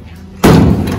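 A heavy metal door on a Land Rover Series slams shut in a workshop with one loud, close thud. A short reverberant ring follows, with no talk.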